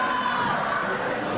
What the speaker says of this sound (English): Seems like the crowd isn't listening, as they're quite vocal still.